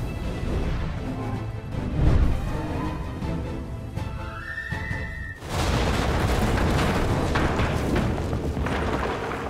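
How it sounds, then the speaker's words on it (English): An explosion in the video game 3 Minutes to Midnight: a deep boom and crashing rumble, then a sudden loud burst of broad noise that sustains and slowly rolls on, heard alone without talk. "Warum die Explosion?"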